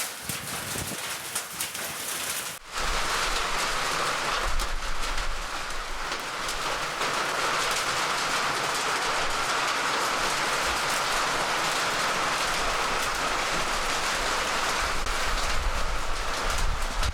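Steady rain falls in Nepal, a dense continuous hiss of drops on surfaces that starts abruptly and holds at an even, fairly close level with no voices.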